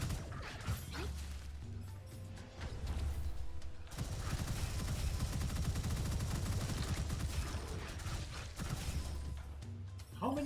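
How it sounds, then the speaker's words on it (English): Sustained video game gunfire fills the scene, a dense continuous rattle of rapid shots with mechanical clatter, briefly cut off before resuming at full loudness. "keep shooting, keep shooting"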